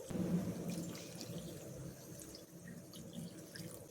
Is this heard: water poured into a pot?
yes